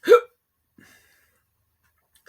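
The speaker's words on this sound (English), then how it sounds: "Hiccups." A single sharp hiccup sounds close and clear, followed by a faint second catch and a brief sound at the end, with near silence in between.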